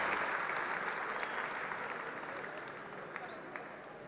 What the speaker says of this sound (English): Can we have a huge round of applause for them, please?